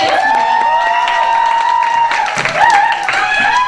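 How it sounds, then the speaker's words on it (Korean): An audience at a university spring camp leadership lecture applauds and cheers to welcome a speaker. The crowd noise is loud and continuous, with tonal whistles or voices over it. "그러면 즐거움과 기쁨을 주는 박우정 대표님 모시도록 박수로 맞이하겠습니다."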